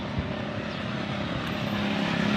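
A vehicle engine warms up at idle, a steady droning hum with a low rumble holding even and close throughout, no talking over it.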